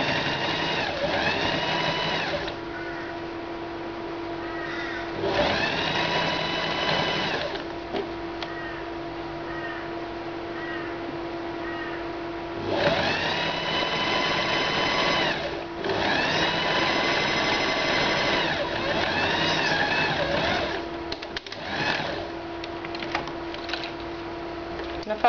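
A sewing machine stitches a polar fleece dog coat in several sustained bursts of rapid, steady clatter separated by short pauses, with soft talk and small handling noises in the gaps.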